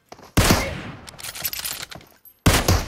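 Gunfire in the battle royale game PUBG comes as two loud, close bursts of rapid shots with a quieter scattered stretch between them.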